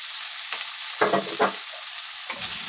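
Potatoes fry in a pan over a soft, steady sizzle, broken by a few short bursts of stirring and scraping, heard alone and fairly quiet.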